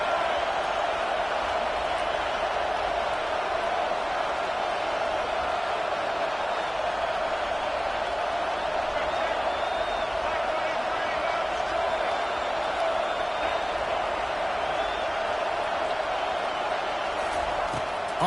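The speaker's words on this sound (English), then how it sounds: "Listen to this crowd just shaking the girders of this place trying to help their defense." A packed home crowd at a college football game roars in a dense, continuous wall of noise as the defense takes the field, loud and sustained throughout without letting up.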